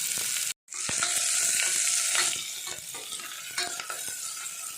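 Onion, garlic and cinnamon fry in hot oil with cumin, a dense close sizzle broken by a short gap, then scraping stir strokes and light clinks of a spoon against the pan.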